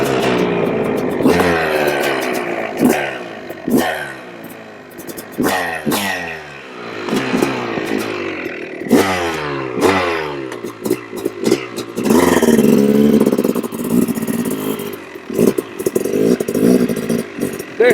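A Yamaha YZ250 dirt bike is kicked to life outdoors and revved repeatedly, its engine note climbing and falling in quick bursts, loud and close, with sharp rattles between the revs and no talking.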